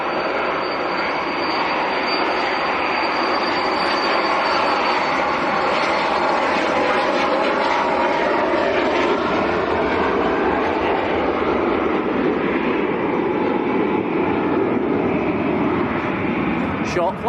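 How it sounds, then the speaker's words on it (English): A German-registered Pilatus PC-24 business jet passes at Manchester Airport, its engines a steady, broad roar with a faint high whine that holds throughout, while someone talks over it. "There goes the German PC-24."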